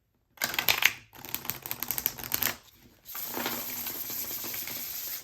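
Tarot deck being shuffled close up in crisp rattling riffles, two bursts broken by brief pauses, then a steadier continuous run of card flutter.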